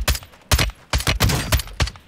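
Bursts of gunfire in the Warzone video game, several loud sharp volleys in quick uneven succession with brief gaps between them, dense and close with no talk over them.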